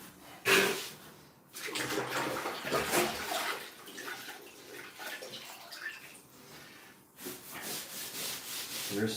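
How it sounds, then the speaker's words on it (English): A grout sponge is rinsed and wrung in a bucket of water while grouting a travertine tiled shower, giving close sloshing, splashing and rubbing sounds in uneven bursts with brief pauses and no talking. "just always rinse out that sponge"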